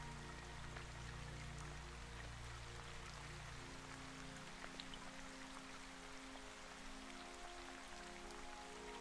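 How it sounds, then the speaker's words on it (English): Steady rain patters across a fairground's canvas roof, a soft continuous hiss with low hum in the background and no voices. "You remain for a little while, listening to the rain and the distant carousel music drift through the fair"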